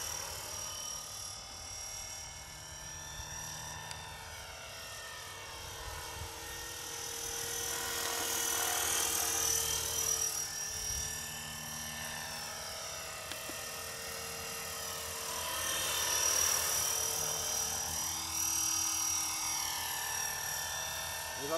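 A KDS 450 S radio-controlled model helicopter whines steadily nearby, its high-pitched motor and rotor pitch rising and falling as it maneuvers, loud throughout.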